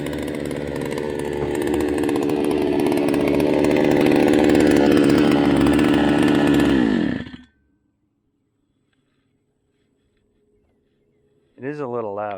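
A $200 eBay outboard motor runs loud and steady for about seven seconds, then cuts out abruptly into near silence before a voice starts talking.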